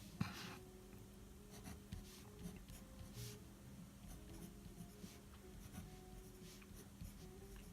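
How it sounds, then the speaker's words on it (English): Faint pen scratching across paper as gas law variables are jotted down, quiet and steady with small taps, under a low background hum. "I like to write down our variables"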